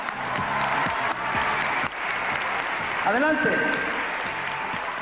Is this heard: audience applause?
yes